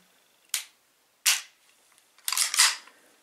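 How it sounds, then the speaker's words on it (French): An HK Mk23 airsoft gas blowback pistol makes sharp, close mechanical clicks: two single snaps followed by a quick cluster of clicks, each standing alone in quiet. "le trigger reset arrive assez rapidement"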